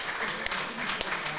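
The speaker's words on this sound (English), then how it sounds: "give yourselves a round of applause real quick" Audience at a live poetry reading in a small cafe claps briefly, a soft, fairly distant patter of hands with a couple of sharper single claps poking through.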